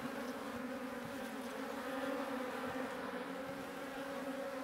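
Honeybees hum steadily from an open hive being inspected in the sun, a close, continuous drone with no talking.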